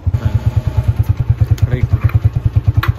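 A motorcycle engine runs at idle close by, giving a loud, rhythmic thumping putter with even pulses, and a few faint clicks sound over it.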